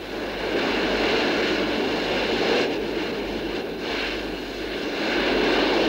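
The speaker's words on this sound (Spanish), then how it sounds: "Un turborreactor dirigido hacia el suelo" Roaring jet engine of the Soviet Turbolet vertical-takeoff test rig, its turbojet pointed at the ground, a loud continuous blasting rush that holds steady with slight swells.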